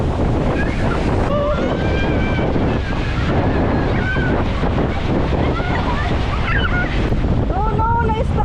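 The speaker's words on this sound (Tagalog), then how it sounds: "Tapos ang lakas ng alon." Loud, continuous crash and roar of strong waves breaking at a sandbar in the Gigantes Islands, with heavy wind buffeting the microphone and people talking and calling out over the surf throughout.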